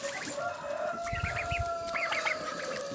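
Several chickens cluck and squawk in short bursts over a steady background hum, with no talking.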